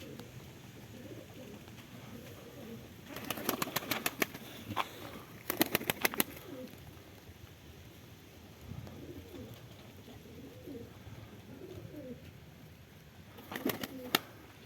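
Soft, low coos of Konya Arab pigeons drift in and out against steady background noise, with a few brief bursts of sharper clicking and rustling.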